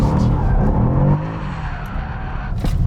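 A car sliding around a track with tyres squealing, the engine roaring loud and close before easing back while the tyre scrub continues.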